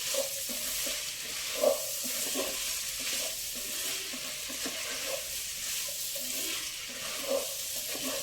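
Mushrooms and mixed vegetables, including capsicum, sizzle steadily in a pan for a Telugu-style curry, with occasional soft stirring scrapes over the even frying crackle.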